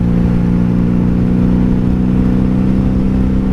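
A 1997 Honda Magna VF750C motorcycle cruising on a highway, a loud steady engine drone with constant wind rush, unbroken throughout.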